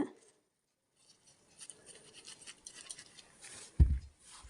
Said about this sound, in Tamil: ஒரு துணி வச்சு இந்த மாதிரி அந்த வர்ற பசையை வந்து தொடச்சி